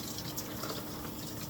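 Water runs in a shower, a steady broadband hiss and patter that continues without a break.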